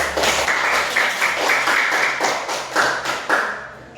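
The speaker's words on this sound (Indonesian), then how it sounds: "Tepuk tangan dulu." A classroom group claps together in a quick rhythmic pattern, the claps landing in short repeated bursts for a few seconds.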